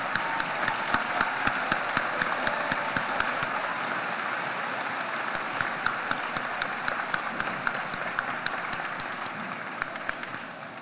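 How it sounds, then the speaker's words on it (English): A large high school graduation crowd claps in sustained applause for family members, a broad wash of hand claps with distinct sharp individual claps popping out, holding steady throughout and easing slightly at the end. "Let's give them a round of applause"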